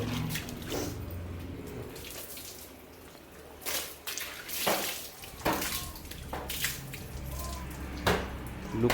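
Water is poured and splashed over a bicycle being washed, making soft intermittent splashes and drips at low volume, with scattered louder bursts.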